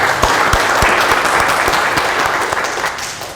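A hospital audience applauds a doctor in Banyuwangi with sustained, dense clapping that holds steady at close range and tapers slightly at the end.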